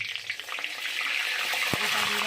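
Bay leaves dropped into hot oil in a pan for a Bengali-style chicken and potato curry, giving a steady close sizzle with a faint stirring scrape partway through and no talking.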